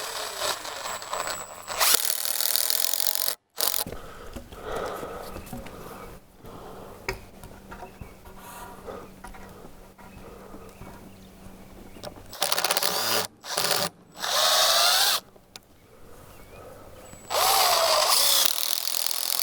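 A power driver sinks 6-inch log screws into wood on a garden homestead, in loud sustained whirring bursts separated by short pauses, with no talking.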